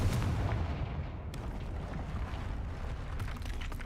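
Booming blasts and crackling bursts from a fire-based explosive spell in the Hogwarts Legacy video game, a dense continuous rumble of game effects with no voices.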